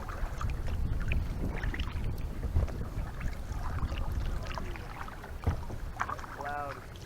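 Steady wind rushing over the microphone while paddling a kayak at Trap Pond State Park, a constant broad roar with a few bumps and faint splashes, close and loud throughout.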